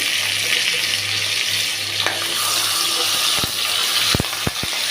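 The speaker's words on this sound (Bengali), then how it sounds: "তেলটা গরম হয়ে গেছে। এবার এতে আমরা মাছের মাথাগুলো ছেড়ে দিচ্ছি।" Loud, steady sizzling of fish heads frying in hot oil, with a few sharp clicks and pops breaking through.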